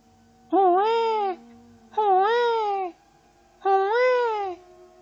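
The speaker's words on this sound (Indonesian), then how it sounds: "terdengar suara bayi lagi" An infant cries in a horror story setting, three drawn-out wailing cries in a row with short pauses between them, loud and close against a quiet background.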